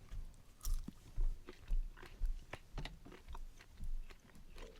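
Chewing on a firm, smoky pepperoni-style meat snack from a U.S. Close Combat Assault Ration (CCAR), with repeated close, moist bites and crunchy chews in a steady rhythm, no talking.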